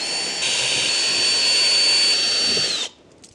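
A whining electric power tool spins steadily for nearly three seconds, removing T30 bolts from the door of an MKV Supra. It is close and loud, then cuts off into quiet.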